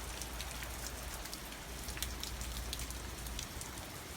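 Steady rain from Hurricane Matthew drips off a roof at 2 a.m., a dense, even patter and hiss that carries on without pause, close by and fairly soft, with no voices.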